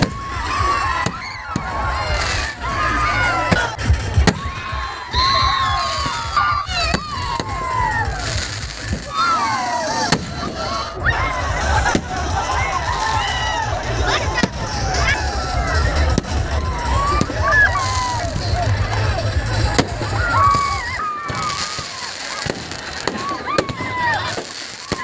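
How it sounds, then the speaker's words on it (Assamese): Firecrackers and colourful fireworks go off at a Ravana-burning festival after the goddess immersion, with sharp cracks and whistles scattered throughout over a steady crowd roar and a voice talking. "এয়া বোমা, বিভিন্ন ৰং ফুলীয়া বোমা।"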